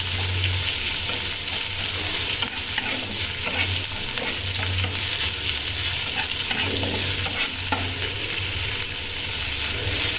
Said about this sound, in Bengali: একটু হালকা লাল লাল করে ভেজে নেব।